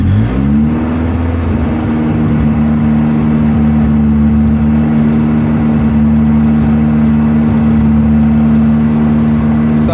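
A car fitted with junkyard injectors running flex fuel drives on a test run, its engine holding a loud, steady drone close by for the whole stretch, with no talk.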